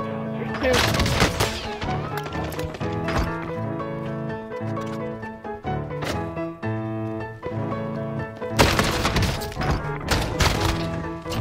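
Heavy shotgun blasts and other gunfire in Call of Duty Warzone on Rebirth Island, punchy booms scattered across the clip with a louder cluster near the end, mixed with game music and effects.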